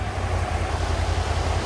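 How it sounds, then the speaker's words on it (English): Steady broadband rush of a waterfall on a muddy creek just after a flood, continuous and close, with a strong low rumble and no voices. "Look at that waterfall though."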